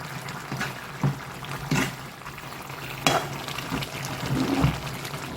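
Cauliflower and potato gravy bubbling and sizzling gently in a pot, broken by a few soft scrapes and clinks of stirring.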